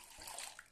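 Water is poured into a cooker for sweet aval pongal with moong dal, a soft, brief splashing stream that is faint and close, with no talking.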